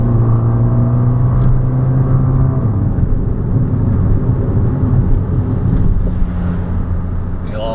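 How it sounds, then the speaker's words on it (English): A car in manual mode accelerates hard with quick fuel-cutoff upshifts from a sequential-style gearbox, the engine drone climbing and dropping through several gears, loud and close throughout. "Sounds like it's just a sequential gearbox shifting through the gears"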